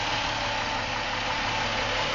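A Chrysler 300C 3.5 V6 engine idling quietly and steadily, a smooth low hum with a faint mechanical texture, no voices.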